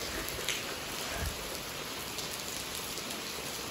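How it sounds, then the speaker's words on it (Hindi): Heavy rain falls steadily near a farm, a dense continuous hiss of drops on surfaces with no speech, holding an even level throughout. "बारिश बहुत ज्यादा लगी है।"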